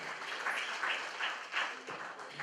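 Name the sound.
audience applause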